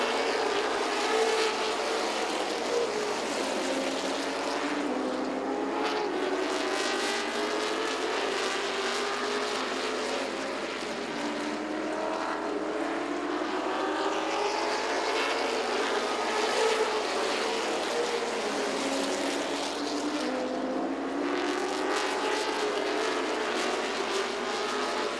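Late model race cars circle Southside Speedway, a continuous loud roar of engines with rising and falling pitch as the pack sweeps past again and again.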